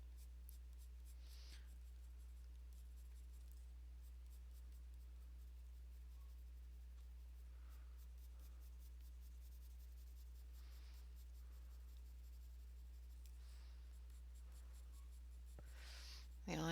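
Luminance coloured pencils in black stroke across paper while shading hair in a drawing: soft, close, steady scratching and rubbing over a constant low hum, ending in a louder brushing scrape.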